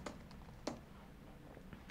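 A few scattered keystrokes on a computer keyboard while a Java project name is typed in the Eclipse IDE, one sharper click standing out among faint taps over a quiet background hum.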